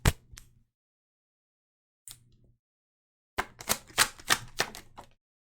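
Tarot cards shuffled by hand at close range in three separate bursts of brisk, papery flicks and snaps, the last the longest, with quiet gaps between.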